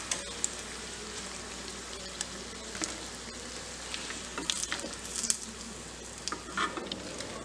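Bottle gourd (lauki) koftas fry in hot oil in a pan, making a soft, continuous sizzle with light crackling pops that grow a little busier toward the end.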